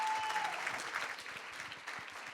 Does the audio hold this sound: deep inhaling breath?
no